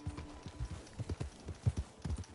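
Rhythmic clip-clop of a horse's hooves trotting at a steady pace in Red Dead Redemption 2, fairly close and moderately loud, with a faint steady hum underneath.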